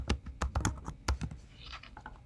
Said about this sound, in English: I can come out here and just type in Colorado flag.